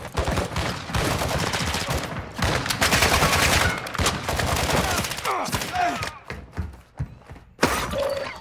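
Gunfire in Call of Duty DMZ, loud rattling bursts and impacts with shattering cracks packed into the first six seconds, then scattered sharper shots and thuds over quieter gaps.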